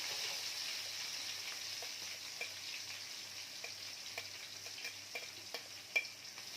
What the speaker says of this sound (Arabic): هننزل بالبصل